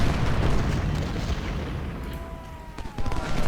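Musket volleys in the Ultimate General: Civil War video game, a dense rolling crackle of gunfire loud at first, thinning and then swelling again near the end, with a faint tone drifting over it.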